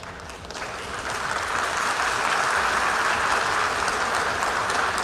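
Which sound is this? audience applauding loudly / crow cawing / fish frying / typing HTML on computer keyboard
audience applauding loudly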